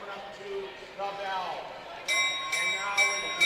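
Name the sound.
bell rung for the bell lap in speed skating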